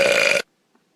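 One loud, harsh burp from a girl lasts under half a second, then stops abruptly into silence.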